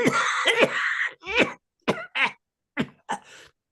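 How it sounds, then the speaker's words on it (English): A series of harsh coughs, a dense burst at the start followed by several shorter separate hacks with brief pauses between them. "The cough I cannot help."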